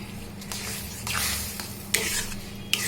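Semolina (suji) dough being stirred in a pan on a gas stove, a soft scraping and rubbing with faint sizzle, steady and close, with a few sharper clicks of the spoon against the pan.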